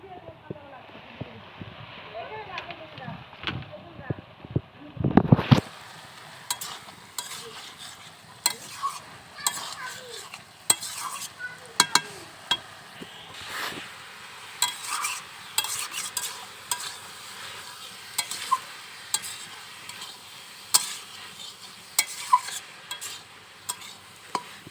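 Cauliflower frying in a pan and being stirred, a soft continuous sizzle with repeated scraping and clinking of the spatula against the pan at close range, after a brief loud clatter near the start; talk occurs in places.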